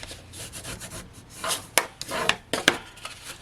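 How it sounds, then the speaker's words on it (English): Cardstock is rubbed down firmly by hand during card making, giving soft close scraping strokes followed by a few sharp taps and clicks near the end. "I'm just going to pop it down for a second while I just burnish this down"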